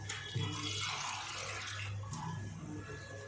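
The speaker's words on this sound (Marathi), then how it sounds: "यामध्ये पाणी टाकून घेते अगोदर।" Water pours steadily into a bowl of flour mixed with fenugreek, cabbage and chopped coriander for kneading dhapate dough, a close continuous splashing stream with faint clicks.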